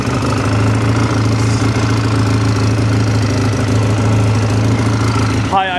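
A farm engine with a recently replaced valve cover runs at high idle, giving a loud, steady, close mechanical drone with a rhythmic knocking pulse throughout.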